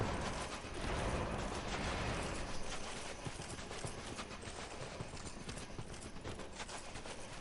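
Horse hooves in the game Dark Souls 2, a dense, loud, rapid clatter of galloping clip-clops running continuously with no pauses.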